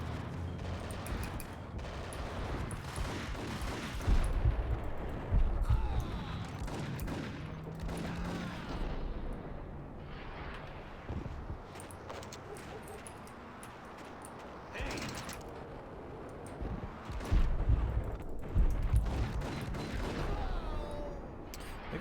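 Gunfire in the video game Max Payne, rapid bursts of shots with mechanical clicks and reload clatter over a busy game soundscape, while people chat quietly underneath.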